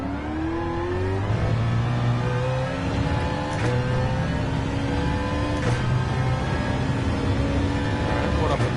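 BMW Z4 race car engine in Gran Turismo 7 at the Red Bull Ring, revving hard with rising pitch sweeps and quick gear shifts, other cars droning alongside, a voice talking over it.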